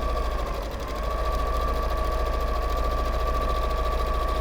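A sewing machine runs continuously while sewing the base seam of a fabric bag, giving a steady, close motor hum with a rapid, even needle rhythm and no break.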